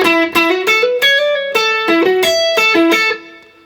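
A distorted electric guitar plays a short melodic solo line of sustained, bending notes, loud and close, fading out at the end.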